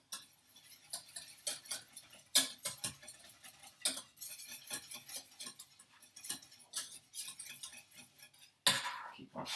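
Utensil scraping and clinking against a pan while a shrimp bitterballen mixture is stirred, giving irregular close metallic taps and scrapes with quiet gaps between them.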